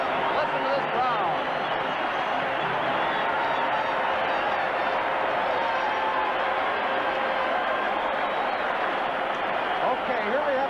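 A dense, constant roar from a packed hockey arena crowd at the 1976 Canada Cup final between Canada and Czechoslovakia, loud and unbroken, with a commentator's voice mixed in.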